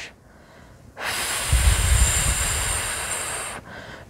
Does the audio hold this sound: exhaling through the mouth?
yes